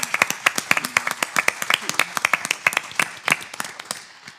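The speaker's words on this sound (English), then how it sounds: "Can we have a round of applause?" Conference audience gives a round of applause to a technical team, a fairly close cluster of individual claps in an uneven rhythm, thinning and fading toward the end.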